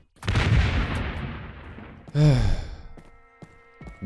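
Video game gunfire from weapons ported from Doom: a loud, booming shot with a long, fading tail, followed by a second, resonant blast and then a few softer clicks.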